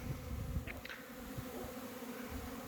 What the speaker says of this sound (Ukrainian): Сьогодні 2 січня і бджолка в нас полетіла.